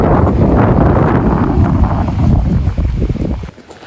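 Strong wind buffeting the microphone on a seashore, a loud, continuous roaring rush that stays heavy throughout before easing near the end.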